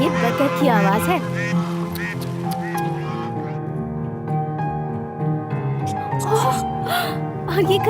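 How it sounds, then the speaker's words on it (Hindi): A duck quacks near the start, then a sustained tonal drone with scattered squeaks, and more quacking calls return at the end. "ये बतख की आवाज है।"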